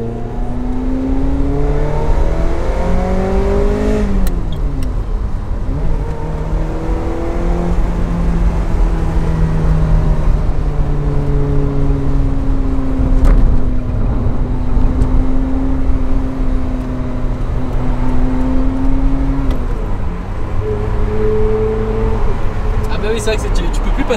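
A car driven through city streets past the Louvre in Paris, its engine droning and repeatedly revving up through the gears, loud and close, with someone talking over it.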